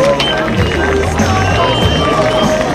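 Crowd at an international grasstrack race in Marmande, 2008, applauding and cheering rider Nick de Jong, a steady dense roar of clapping and voices filling the whole moment, close and loud.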